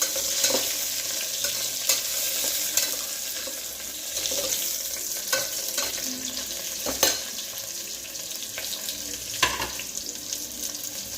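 Onions and a green chili sizzle in hot oil for egg biryani, a steady soft frying hiss broken by repeated clinks and scrapes of a stirring spoon.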